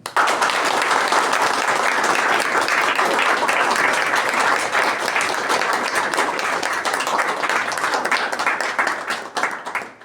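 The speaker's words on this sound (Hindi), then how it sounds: "इसमें जोरदार तालियां" Loud, sustained applause fills a room at a recovery-program gathering in Dehradun, celebrating a young man's first year free from addiction; dense clapping runs steadily for about ten seconds before tapering at the end.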